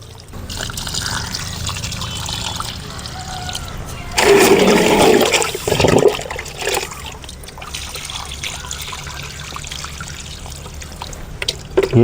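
About two litres of rice-washing water mixed with peanut cake is poured onto a flowering plant, making a short, full gush and splash that trails into a light trickle.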